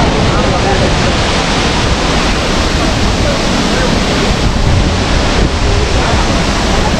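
Marmala Falls near Teekoy, a mountain waterfall throwing heavy spray, fills the space with a constant loud broadband roar of rushing, crashing water, close by, with possible voices buried beneath it.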